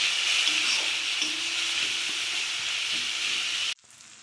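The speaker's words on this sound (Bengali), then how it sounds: "এবারে একটু কষিয়ে নেব।" Ground roasted spice paste sautéing in a hot pan, a steady bright hiss and sizzle with faint stirring scrapes, cutting off abruptly near the end into quieter background.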